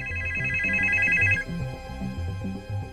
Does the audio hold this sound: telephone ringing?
yes